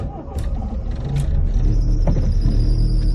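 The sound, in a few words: Toyota EP82 Starlet GT Turbo engine starting with belt squeal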